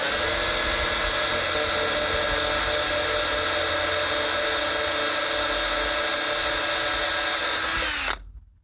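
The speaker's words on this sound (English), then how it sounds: "Okay, so we drill that through." A power drill bores steadily through a workpiece while rigging lazy jacks, one long continuous high whine held for about eight seconds before cutting off abruptly.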